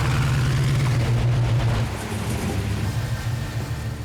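A restored Mustang's muscle-car engine rumbles at a loud, steady idle with a deep low throb that eases slightly partway through, close by and without voices.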